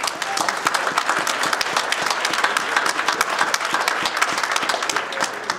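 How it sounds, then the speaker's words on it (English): Audience applause at the opening of the 2020 West Virginia International Auto Show, a dense, steady clapping from a large crowd that continues loud throughout. "Round of applause for the car dealers."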